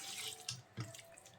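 Water is poured into a pot of Andhra-style fish curry, giving a short stream of splashing and trickling with two brief louder gushes, close by and without talk.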